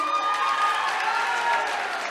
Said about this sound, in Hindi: उनके लिए एक जोरदार ताली बजाई जाए